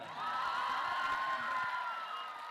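An audience at a mushaira poetry recital applauds and cheers at a distance, a faint, sustained wash of clapping with whoops mixed in.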